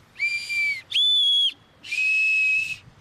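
Three shrill, steady whistle blasts from a small homemade willow bark whistle, each about half a second long, with short pauses between them.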